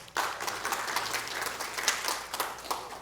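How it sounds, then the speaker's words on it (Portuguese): An audience at a mathematics teachers' lecture gives a round of applause, dense continuous clapping starting abruptly and holding steady, moderately distant and without speech. "salva de palmas para o Sebastião"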